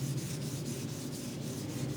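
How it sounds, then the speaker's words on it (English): Steady back-and-forth scraping of sandpaper rubbing against a damaged car wheel rim, rhythmic strokes up close with no talking. "we're gonna go ahead and start polishing or sanding."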